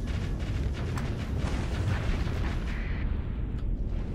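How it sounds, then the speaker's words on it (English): Missiles launching during a battleship clash in Starsector produce a loud, continuous roaring rumble with muffled booms, fading slightly toward the end. "Okay, missiles are firing,"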